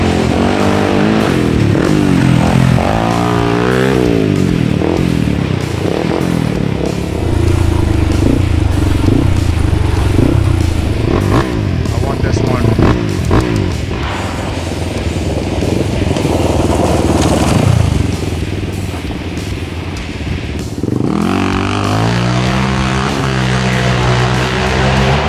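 A quad ATV engine revs hard through a hill climb, its loud, raspy exhaust rising and falling with repeated throttle bursts and gear changes, close to the listener for the whole stretch.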